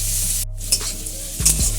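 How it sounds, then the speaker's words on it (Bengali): Sliced onions fry in oil that was first used to fry prawns, for Bengali-style prawn chowmein. A steady close sizzle runs throughout, broken by a few sharp clinks and scrapes of a spatula stirring in the pan. "দেখতে পাচ্ছ পেঁয়াজটা আমাদের ভালো করে হালকা করে ভাজা হয়ে গেছে।"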